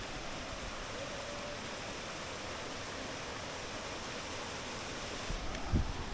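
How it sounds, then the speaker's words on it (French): Steady, faint trickle of water at a small waterfall beside outdoor picnic tables, a continuous soft wash with no talk and a brief low bump near the end. "on peut manger en écoutant le bruit de l'eau qui ruisselle"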